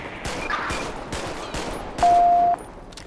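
Pistol gunfire in the LSPDFR police game, a handful of sharp shots spaced roughly half a second apart, moderately loud over a steady background, with a brief sustained tone near the end.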